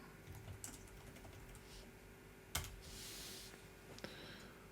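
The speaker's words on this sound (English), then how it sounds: "To log in, simply type AZ space login" Typing on a computer keyboard while entering a login command: quiet, scattered key clicks over a steady low background hum, with one sharper clack partway through.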